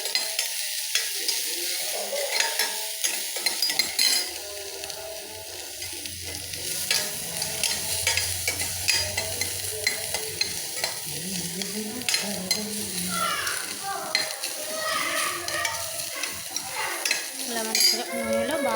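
Sliced carrots fry in hot oil while being stirred, a loud, steady sizzle running throughout with scraping and light metallic clinks of the utensil against the pan.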